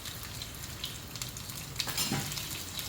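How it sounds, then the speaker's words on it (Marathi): Garlic fries in half a ladle of oil in a pan, giving a soft, steady sizzle with faint crackles and light stirring, quiet and close. "आता यामध्ये मी अर्धी पळी तेल टाकून घेतलेलं आहे आणि आता त्यामध्ये लसूण टाकून घेतलेलं आहे"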